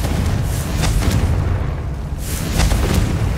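A Confringo blasting spell going off in Hogwarts Legacy, producing a dense rumbling explosion with booming bursts and crackling debris that swells, dips and surges again, loud and continuous throughout.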